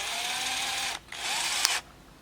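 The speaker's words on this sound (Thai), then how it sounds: "หรือจะกดให้สว่านทำงานก็ได้นะครับ" A cordless drill whirs steadily at close range as its chuck is tightened, drops out briefly, then spins up again before cutting off.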